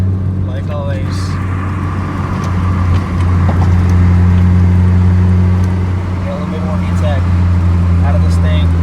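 Honda Civic Si EM1 with a 1.6-litre B16 engine at high revs with VTEC engaged, a loud steady in-cabin engine drone with strong low harmonics held throughout, under occasional talk.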